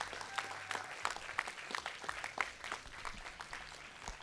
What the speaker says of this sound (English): Give it up one more time for your collegiate Valorant champions.